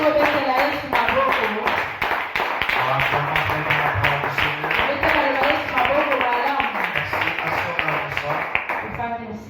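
A church congregation breaks into lively rhythmic clapping at a French-language service, many hands beating steadily together for several seconds, with voices mixed underneath.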